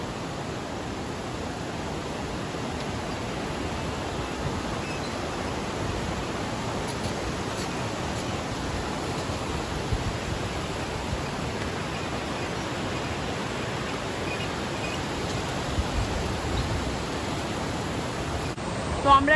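Clear river water rushes steadily beneath a double-decker living root bridge on a trek in North East India, a constant broad hiss that stays even and fairly loud throughout.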